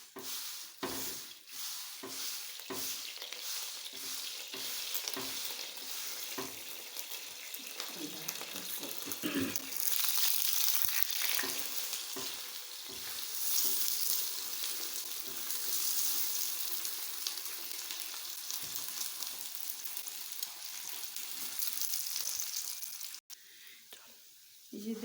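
A potato paratha fries on a pan with desi ghee, giving a continuous soft sizzle with occasional scraping and stirring touches, while a person speaks quietly over the cooking.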